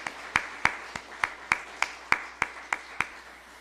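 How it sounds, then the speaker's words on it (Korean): A church congregation gives a short round of thanks during a Sunday service: about ten spaced, crisp claps in a steady rhythm, fairly near and moderately loud, with no voices over them. "우리 집사님 가정에도 감사의 박수 드립니다"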